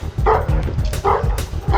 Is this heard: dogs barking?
yes